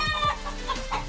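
Young 5K Sweater roosters, about six months old, give a run of short agitated clucks and squawks close by while being caught.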